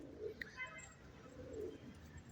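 Faint, low cooing of pigeons inside a pigeon coop, soft repeated coos with a brief chirp, quiet against a dim background.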